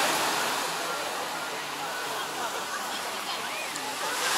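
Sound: ocean waves crashing on Cleopatra Beach, Alanya

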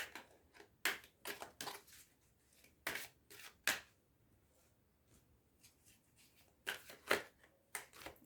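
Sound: shuffling cards to pick a card

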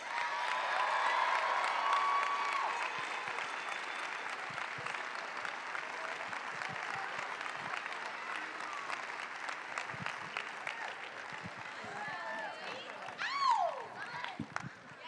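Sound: audience applause for gymnast

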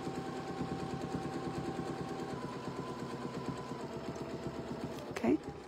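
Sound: sewing machine stitching a quilt along a chalk line

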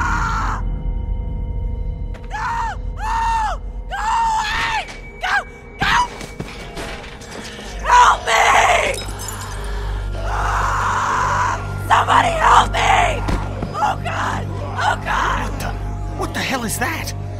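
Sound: girl screaming, from video game The Walking Dead

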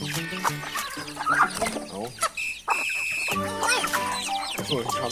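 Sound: chicks being chased

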